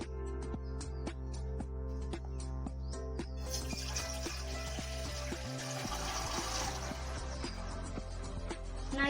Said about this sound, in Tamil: ஒரு சொம்பு தண்ணியை ஊத்திக்கலாம்.